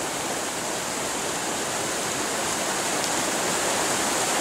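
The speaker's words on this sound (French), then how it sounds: "on a toujours le ruisseau qui est déchaîné avec la jolie cascade là-bas" A raging stream and a waterfall in a rainy forest give a steady, dense roar of rushing water that fills the clip, close and loud with no voices.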